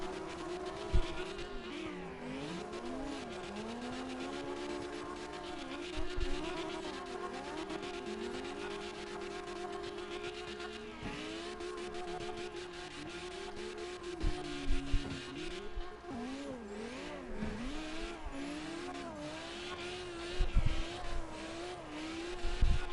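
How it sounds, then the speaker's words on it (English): Cars drift in CarX Drift Racing, with a steady roar of revving engines and tires squealing and skidding through long slides. Engine pitch rises and falls repeatedly over the whole stretch, close and continuous, with no talking. "I'm just going to drift where you guys are drifting"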